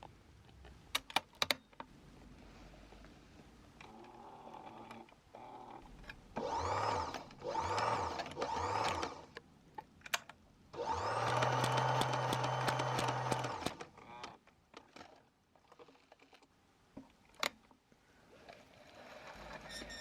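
A sewing machine joins two fabric seams in several short whirring bursts, three brief runs followed by a longer steady one, close and moderately loud, with light clicks and handling sounds between.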